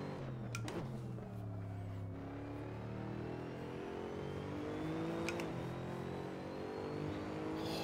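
GT3 race cars lap the Nürburgring GP circuit in a racing video game, several engines droning and shifting pitch together as they accelerate, with a couple of sharper bursts as cars close in, moderately loud and steady.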